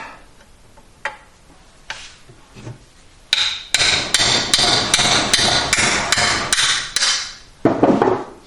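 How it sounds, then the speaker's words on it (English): Metal hammer blows strike a car's seized exhaust manifold nuts, a few sparse taps first, then a loud, steady run of sharp ringing hits roughly every half second, close and without talk. "let's see if the manifold nuts come off."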